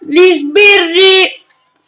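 A human voice imitates a video-game police siren with three loud, sustained wailing calls. The pitch steps up on the second call, then the voice stops abruptly.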